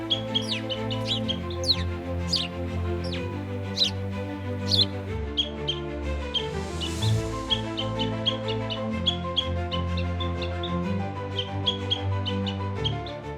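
Small birds, house sparrows, chirp and tweet in a busy, continuous stream of short calls over a steady droning hum, loud and close throughout.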